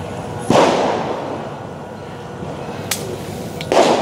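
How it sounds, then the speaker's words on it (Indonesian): A few sharp firecracker bangs, one loud blast early, a smaller crack later and another burst near the end, over steady outdoor crowd noise at a night protest in Jakarta. "itu sepertinya suara petasan lagi"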